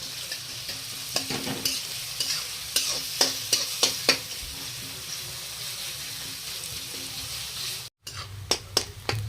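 Spice paste sizzling and frying in a pan for a jackfruit curry, with a steady hiss broken by repeated sharp scraping stirs, close and moderately loud, no voices.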